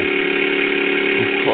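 A drill grinds in Tomb Raider: Underworld, giving a short, loud, continuous engine-like drone with no pauses.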